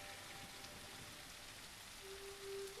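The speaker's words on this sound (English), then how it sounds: "Sit through the rain for the first time." Rain falls steadily in a soft, faint wash of patter and drips, with a brief thin tone rising near the end and no talking.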